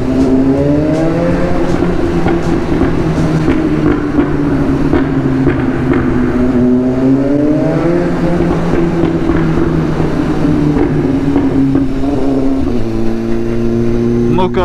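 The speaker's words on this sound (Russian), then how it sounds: "я предлагаю вам насладиться звуками туннеля, звуками выхлопа" A sportbike's exhaust roars inside a road tunnel, loud and continuous, with the engine pitch rising and falling through revs and shifts, echoing off the walls.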